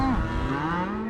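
A single deep, drawn-out cow moo from cattle on a drive in Montana, loud and close, with a low bellowing tone that wavers slightly throughout.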